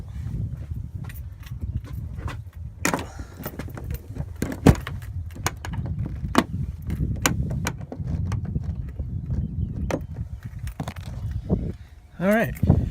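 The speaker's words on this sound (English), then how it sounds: "I'm going to put the phone down so I can close these doors real quick." Doors of a medical helicopter being shut, a series of sharp latching clunks and clicks spread over several seconds, close by, with handling noise between them and a brief tonal squeal near the end.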